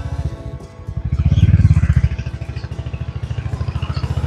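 Motorcycles arriving for a monsoon group ride to Palna Dam near Jamshedpur, a loud close engine thumping at a steady rhythm and swelling briefly as it revs.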